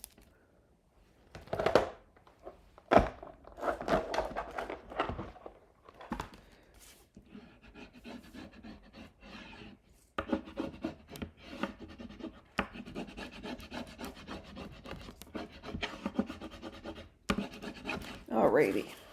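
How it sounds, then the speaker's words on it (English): A bone folder burnishing the edge of paper for a mini album cover, close, soft scraping and rubbing strokes in irregular bursts, with some quiet handling sounds between them. "I will grab my bone folder and burnish it a little bit better."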